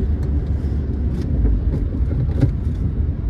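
A car driving on a highway after a shift into third gear, its engine and road noise forming a steady, loud, continuous rumble with no talk over it.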